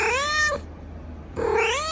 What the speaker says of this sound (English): Kitten meowing to attract cats?